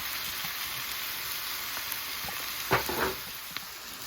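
Cabbage cooks down in a pan with a steady, close frying sizzle, broken by a brief stir or shuffle midway, with no talk.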